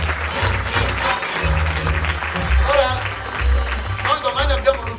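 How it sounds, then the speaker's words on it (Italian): Audience applause at a theatre performance, in memory of Patrizia Laporta, a dense sustained clapping wash over low rumbling sound, with a voice or music partly mixed in. "lo merita veramente un applauso per Patrizia Laporta"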